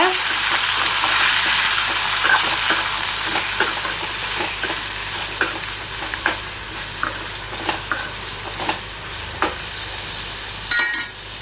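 Sweet potato sizzles and fries steadily in a hot pan, with occasional clinks and stirring scrapes punctuating the constant crackle.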